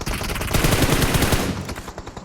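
Rapid, dense automatic gunfire in the mobile video game BGMI, a loud continuous burst of shots lasting about two seconds before cutting off.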